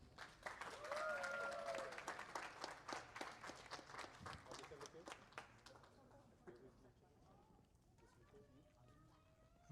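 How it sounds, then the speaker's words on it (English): Wedding guests clap in a dense round of applause that thins out and fades over several seconds, with voices talking over and after it. "So let's give them a round of applause."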